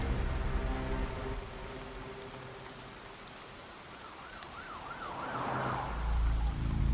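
Steady, soothing rain hisses throughout, with a siren wailing briefly in the middle distance partway through and a low rumble underneath.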